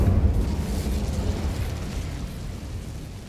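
A fire spell erupts in Hogwarts Legacy as a heavy, rumbling burst of flame. It roars loudly at first, then fades slowly over a few seconds, with no voices.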